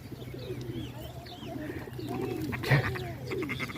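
Pigeons coo softly and repeatedly nearby in an outdoor setting, low throaty calls overlapping faint background noise and a few light rustles.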